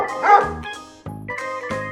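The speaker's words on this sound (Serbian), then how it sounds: "Da, to je pas." A dog barks several times in quick succession, loud and close, each bark sharp and tonal with short gaps between, heard alone without talk.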